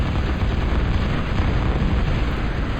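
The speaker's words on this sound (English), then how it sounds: "And here comes his bombing run." Bombers in a real-time strategy game drop a run of bombs, making a dense, continuous rumbling roar of overlapping explosions that stays loud and unbroken, with heavy low-end boom.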